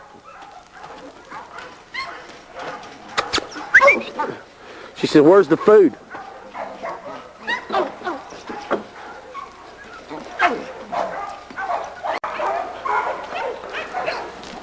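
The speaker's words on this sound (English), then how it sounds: "this is the little dog we call Sweet Pea" Sweet Pea, a small dog, gives sharp barks and whimpers close by, mixed with people talking.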